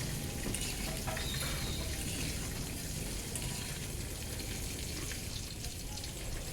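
Pieces of elephant foot yam lightly frying in a pan produce a constant, dense hissing sizzle with no pauses or voices.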